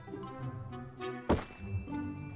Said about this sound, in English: It hit the back fucking rim and went back in.